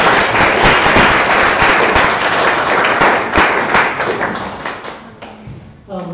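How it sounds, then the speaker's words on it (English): Audience at an evening lecture on translating classical texts claps for the speakers: dense, steady applause fills most of the span, then thins and tapers off near the end. "let's have a round of applause for our speakers"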